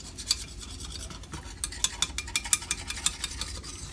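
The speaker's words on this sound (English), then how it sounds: "We're going to stir it around and let this brown." Brown gravy being stirred in a pan with a whisk for chicken, rice and gravy: quick, close scraping and tapping strokes in an uneven rhythm over a soft background hiss, with no talking.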